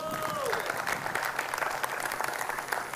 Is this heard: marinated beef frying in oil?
no